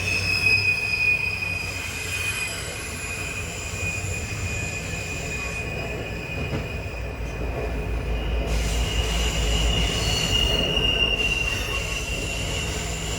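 A freight train rolls past on a grade with a continuous high-pitched squeal of wheels on rails over a heavy, steady rumble, loud and close throughout.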